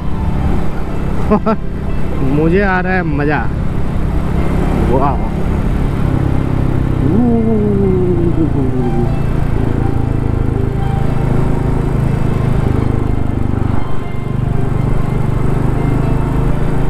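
A car cruises at 50-60 km/h along the Road to Heaven near Dholavira in Kutch, Gujarat, giving a steady road and engine hum with a few passing whines while someone talks excitedly over it.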